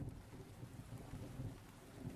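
A steady thunderstorm with rain falling on surfaces, heard as continuous soft hiss and low rumbling throughout, faint and even.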